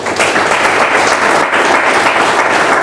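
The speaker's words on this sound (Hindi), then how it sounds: "अपने लिए ताली बजाइए सबसे पहले तो आप" Dense audience applause at a direct selling business training session, a loud, steady wash of clapping filling the room without a break.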